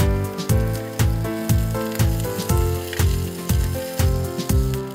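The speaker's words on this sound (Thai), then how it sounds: "เราค่อยๆย่างเนื้อปลาไปเรื่อยๆนะครับคอยดูว่าเนื้อปลาเนี่ยสุกถึงไหนแล้ว" A red tilapia fish fillet grilling in a hot pan gives a loud, close sizzle that swells and fades in regular pulses roughly every half second, with a bright hiss and no talking.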